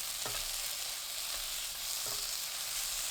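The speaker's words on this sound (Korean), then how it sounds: "청양고추, 파 넣고 20초 더 볶아주세요." Eggplant stir-fries in a hot pan with chili peppers and green onion, a constant close sizzle with three short scraping stirs spread across it.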